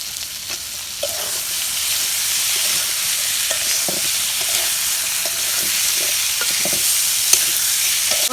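Potatoes sautéing in a pan for a carp and bean curry sizzle loudly and evenly throughout, with frequent stirring scrapes and clinks scattered across the sizzle and no one speaking.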